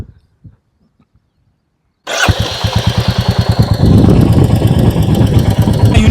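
A Royal Enfield Goan Classic 350 bobber motorcycle starts after two seconds of near silence with a few faint clicks, then catches into a loud, close, rhythmic single-cylinder thump that settles into a steady idle.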